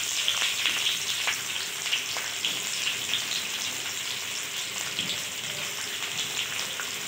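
Onions dropped into a pan of frying garlic, giving a bright crackling sizzle with scattered pops and stirring clicks, steady and close with no voices.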